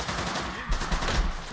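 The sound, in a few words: gunfire in the video game Men of War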